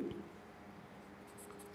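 A pen writes numbers on paper with soft, continuous scratching, close but quiet over a low background hum.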